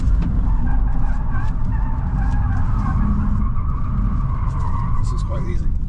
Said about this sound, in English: I'll put a little bit of me laughing and smoking the tyres in here